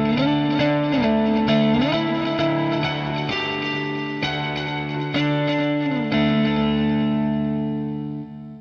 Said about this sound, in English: the lead guitar doesn't really come in hard until the instrumental after verse 2